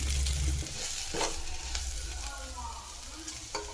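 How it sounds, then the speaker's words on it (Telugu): Onions frying in oil in a pan for homemade biryani, a steady close sizzle with a few stirring scrapes and clinks, no talking. "ఆనియన్స్ బ్రౌన్ కలర్ వచ్చేంత వరకు వేగనించాలి"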